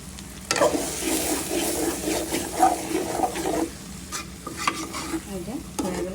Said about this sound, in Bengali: আর একটু ভাজা ভাজা করে তারপরে নামিয়ে ফেলবো